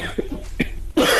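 A voice imitating a cough, made by mouth as a comedic sound effect: a few short, close bursts, then a louder rough blast at the end, with no speech.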